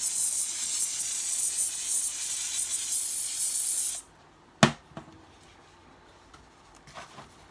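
Steady hiss of aerosol spray oil onto a Tekno SCT410.3 RC truck chassis for about four seconds, then silence broken by a couple of sharp clicks and taps.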